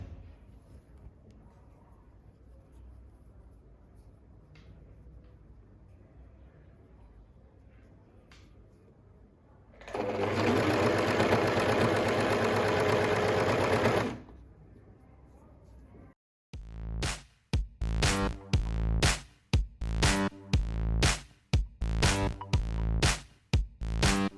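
A serger sews a t-shirt hem in a steady, loud whirring burst of a few seconds, followed later by a series of sharp, rapid mechanical clunks and thumps close by.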